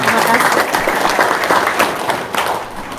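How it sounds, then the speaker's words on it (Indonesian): A live audience at a seminar claps steadily in a dense, continuous round of applause with scattered crowd noise and faint voices mixed in. "tepuk tangan dong"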